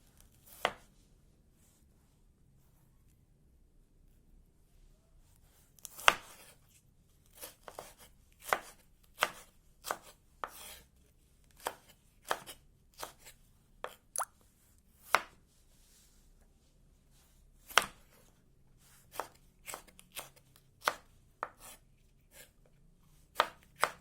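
A knife chops spring onions into slices on a board, giving sharp, close taps that come alone, sometimes spaced out and sometimes in quick bursts.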